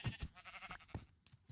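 Sheep bleat faintly in Minecraft, the video game, several short calls in quick succession with no speech over them.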